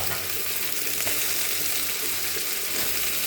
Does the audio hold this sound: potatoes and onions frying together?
yes